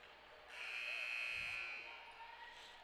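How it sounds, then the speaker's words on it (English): Scoreboard buzzer at a girls' high school basketball tournament game sounds one steady, moderately loud electronic tone lasting about a second, with faint gym background around it. "That buzzer told the Hawks that they need to get back out onto the court."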